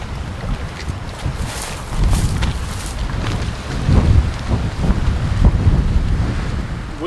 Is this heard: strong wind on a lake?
yes